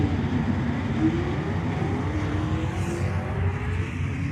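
Drag race between a Plymouth Duster and a Ford Fairmont wagon with a clutch at Tucson Dragway, a steady loud engine roar with rising revving tones sustained throughout, no voices.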